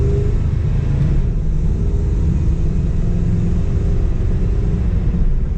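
A 1968 Dodge Super Bee engine running while driving gives a steady, loud low rumble that holds an even drone throughout, close and continuous with no voices.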